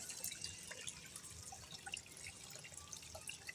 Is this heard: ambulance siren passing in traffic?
no